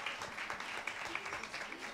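An audience at a student and teacher music performance claps continuously, with a dense, steady patter of applause at moderate distance.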